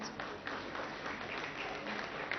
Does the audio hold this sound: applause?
yes